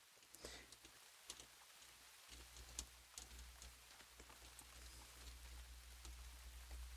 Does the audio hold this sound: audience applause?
no